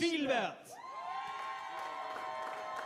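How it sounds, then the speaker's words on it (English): A crowd screams, cheers and whoops for a competitor walking onto the stage at a STIHL Timbersports pro final, a loud burst of shouting that settles into sustained cheering. "we can hear the people screaming for him as he comes up on stage"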